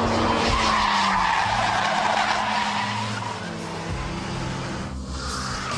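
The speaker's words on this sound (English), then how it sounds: "Let the tail slide out as far as you dare, then hit the throttle to pull the car out of the slide." Car drifting with its tail sliding out, tires squealing loudly in a long sustained screech over engine noise, close and continuous, easing slightly toward the end.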